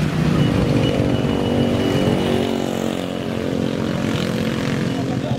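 Loud motorcycle with a modified knalpot brong exhaust droning steadily at night on a Semarang street, a rough broadband roar that holds for several seconds and eases slightly toward the end.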